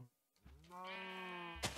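A sheep in Minecraft gives a single drawn-out bleat, clear and close, with a brief thump just after.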